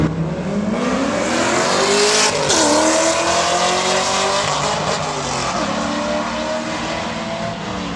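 Drag race cars roar down the track side by side, a loud sustained engine howl that climbs in pitch, dips at a gear change and then fades slightly as the cars pull away.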